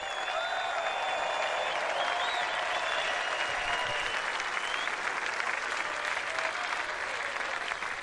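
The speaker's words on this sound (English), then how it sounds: "What a great ovation for you" A large golf gallery at Oakmont Country Club near Pittsburgh applauds the U.S. Open champion, Dustin Johnson, with dense, sustained clapping that holds steady and loud throughout, with no one speaking over it.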